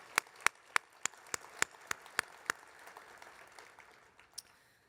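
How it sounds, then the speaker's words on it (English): Scattered, slow handclaps from a small breakfast-event audience, about a dozen sharp claps spread over a few seconds and thinning out, fairly quiet and without voices. "let's give him a round of applause."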